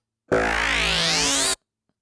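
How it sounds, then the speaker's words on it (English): A single sustained Serum synth bass note, thickened by a phaser and a hyper dimension expander, holds for over a second with a rising, sweeping shimmer that makes it swell and widen before it cuts off abruptly. "That's what's kind of making the bass sound like it gets bigger as it goes throughout."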